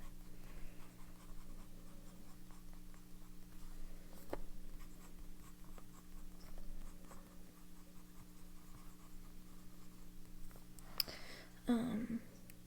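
A fountain pen with a medium nib scratches steadily across Cosmo Air Light paper, faint and close, under a constant low background hum, with a slightly louder stroke near the end.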